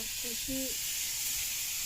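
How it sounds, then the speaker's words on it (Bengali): Fish frying in oil in a wok set on a clay stove gives a steady, even sizzle and hiss throughout, with no voices. "সেই মাছ দেখো মা ভাজা করছে উনুনে কড়াইতে করে তেল দিয়ে"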